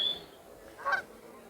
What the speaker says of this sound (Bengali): আর সামনে দূরে হাঁস আছে, এই দুইটা হাঁস আমাদের আসার সময় বিরক্ত করছে